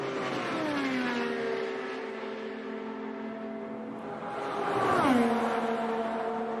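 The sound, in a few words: IndyCar race car driving fast, Indianapolis 500 practice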